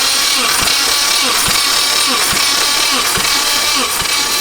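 A truck engine cranks during a compression test with a loud, steady whirring drone and regular rhythmic pulses from the compression strokes, close and continuous throughout.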